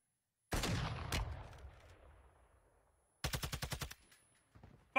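Gunfire in the battle royale game Apex Legends: one loud sharp shot with a decaying echo and a quick second crack, then a tight rapid burst of about seven shots and a final shot at the end.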